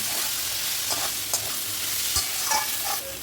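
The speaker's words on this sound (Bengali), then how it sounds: "এই মশলার মধ্যেই আমি চিংড়ি মাছগুলো দিয়ে দেবো। দিয়ে একসাথে আমি কষিয়ে নেব।" Prawns are stir-fried with potatoes in a thick spice masala, giving a continuous close sizzle with occasional scraping clinks of a spatula stirring the pan.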